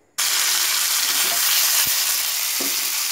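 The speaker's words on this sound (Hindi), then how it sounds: "जब तेल गर्म हो जाए तो इसमें आप लाल मिर्च, कड़ी पत्ता, चना दाल, जीरा और जो धनिया पाउडर, इन सभी को तेल में एक साथ डाल दें" Red chili, curry leaves, chana dal, cumin and coriander powder hitting hot oil for a radish chutney, a sudden loud sizzle that bursts in and stays strong and steady with a couple of faint clicks, no talking.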